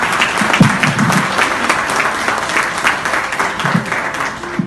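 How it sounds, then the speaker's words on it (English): An audience at a corporate supply day event in Mumbai applauding the co-host, sustained crowd clapping with a steady dense texture and brief voices underneath. "Everybody clap for my co-host."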